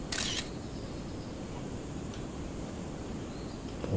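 A camera shutter snaps in LEGO Worlds while taking a photo, a short bright click near the start over a steady game ambience, with another faint click near the end.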